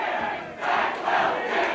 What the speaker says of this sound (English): Crowd's yelling, "Fatwell is chicken."